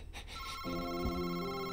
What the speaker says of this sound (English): I keep hearing this fucking phone.